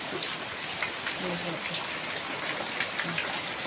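Heavy rain pours steadily on the slopes of Mount Lawu, a dense continuous hiss of drops with gusting wind, while a voice speaks faintly underneath.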